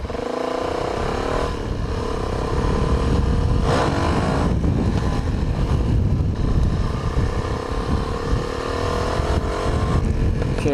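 Motorcycle ridden on the way home while the rider attempts a wheelie, engine roaring steadily and loud throughout with revving swells and rushing wind noise, close to the microphone.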